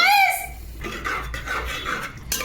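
A spoon scrapes and clinks against a pan while ketchup and pasta masala are mixed in for a soup pasta, the close metallic stirring running steadily after a brief ringing tone at the start.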